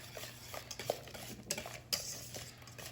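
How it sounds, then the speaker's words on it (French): A whisk or spoon stirs butter into hot pastry cream in a pan, giving soft, irregular scraping and clinking strokes at close range with no voices. "nos 40 grammes de beurre, que l'on va mettre dans la crème chaude et on va mélanger"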